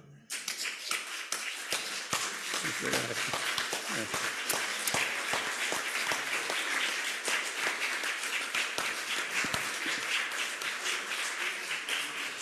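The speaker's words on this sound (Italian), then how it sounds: "Adesso ci alziamo in piedi e gli facciamo un bel applauso." A lecture audience rises to its feet and applauds at a pediatric literature conference, steady dense clapping with sharp individual claps standing out, filling the room continuously from start to finish.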